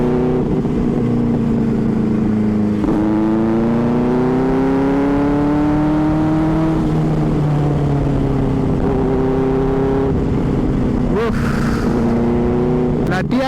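Superbike engine on a ride through Goa, steady harmonic drone rising and falling as the throttle is worked, with shifts around a few seconds in and a brief sharper rev near the end, loud and close with wind rush.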